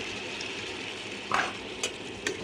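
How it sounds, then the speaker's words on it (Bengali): Potatoes fry with salt and turmeric in oil in a wok, a steady close sizzle running throughout with a few brief scraping stirs near the end. "একটু ভাজা হোক আলুগুলো।"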